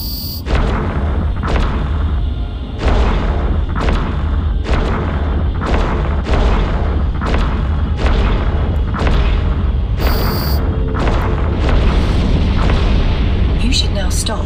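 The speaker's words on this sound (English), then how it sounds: "I suggest you fire your primary weapon" A ship's primary weapon fires in Eve Online, a steady series of heavy booming blasts at roughly one-second intervals, loud and close, over a low constant engine drone.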